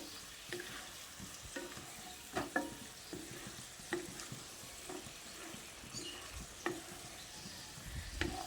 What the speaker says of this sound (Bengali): এবার আবারও ভালো করে নেড়ে চেড়ে এর সঙ্গে মিশিয়ে নিচ্ছি।